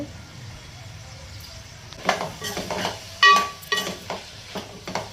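Ginger and garlic fry in a pan with a soft hiss, then several sharp utensil scrapes and clinks from stirring a little past the start, close and moderately loud.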